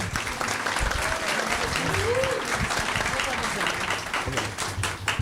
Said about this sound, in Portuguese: a salva de palmas para Nego Bispo